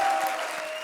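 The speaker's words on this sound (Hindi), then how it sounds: "एक बार जोरदार तालियां इनके लिए।" An audience claps loudly for performers on a comedy stage show. The applause is steady and dense for just under a second, with no talk over it.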